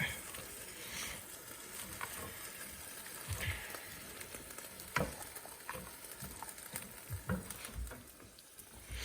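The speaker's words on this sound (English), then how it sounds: "Just mix that cauliflower in there, just like that." Cauliflower stirred through a hot pan gives a soft, low sizzle with irregular scraping and patting strokes of the spoon, fairly quiet and close.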